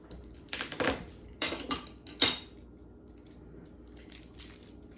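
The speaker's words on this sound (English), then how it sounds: "And this will crush with the skins on it, and it'll push it through" A metal garlic crusher squeezes garlic cloves, giving a few short clanks and clicks in separate bursts with quiet pauses between them.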